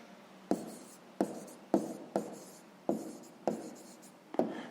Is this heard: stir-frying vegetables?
no